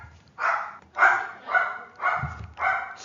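A dog barks five times in a steady, evenly spaced series, moderately loud and close, with short pauses between each bark and no talking.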